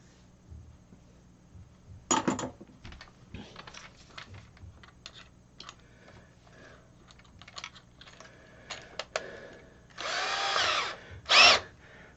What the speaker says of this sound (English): that's why I drilled that first